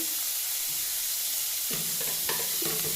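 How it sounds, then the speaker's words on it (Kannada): Tomatoes frying in a kadai give a soft, steady sizzle and hiss. A few stirring scrapes come near the end, and no one speaks. "ಟಮಾಟರ್ ಹಾಕೊಂಡು ಅದು ಫ್ರೈ ಆಗಿ ಒಂದು ಸ್ವಲ್ಪ ಸಾಫ್ಟ್ ಆಗಲು"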